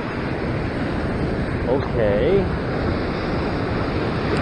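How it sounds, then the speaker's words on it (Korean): Ocean waves crash against seaside rocks at a coastal rock fishing spot, a steady roar of surf with a brief swell of louder wash partway through and a single short spoken word. "파도가 많이 치죠"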